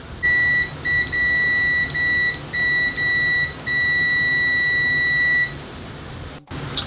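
Klein MM400 multimeter in continuity mode giving loud, close, high-pitched electronic beeps in several bursts of varying length, separated by brief gaps, ending with a click.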